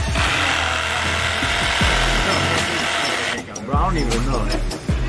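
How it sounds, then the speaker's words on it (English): A Sawzall reciprocating saw buzzes loudly and continuously as it cuts through a frozen ice cream cake, the motor stopping briefly before revving again. "We're cutting the cake with a Sawzall."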